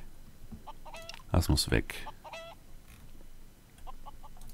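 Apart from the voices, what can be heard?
Mini-Chocobo chicken-like creatures clucking in video game Craft the World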